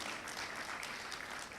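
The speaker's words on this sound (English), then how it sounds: "Clap, please." A conference audience at a Bank of Uganda suppliers' event claps together in a short, dense burst of applause heard from within the hall, fairly quiet and steady throughout.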